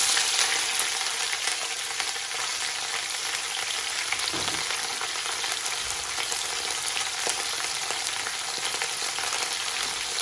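Onions sizzle and fry in a hot pan for a goat and slaoui squash tajine, a dense, even crackle close by with occasional stirring, and no voices.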